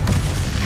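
Depulso cast during a Hogwarts Legacy battle with Ranrock lands as a brief, heavy boom with deep low-end thump and a steady roaring wash, loud and close for under a second.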